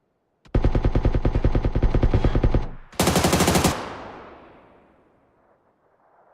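Loud, rapid automatic gunfire in a video game bursts out for about two seconds, pauses briefly, then a second harsh burst follows and trails off into a long fading echo.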